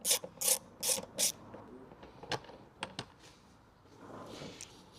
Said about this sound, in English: Just use your Torx 30 and then undo the bolts.